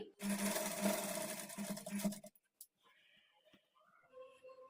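A sewing machine runs steadily for about two seconds, stitching a kurti sleeve onto the armhole, then stops, leaving faint handling noises and quiet rustling.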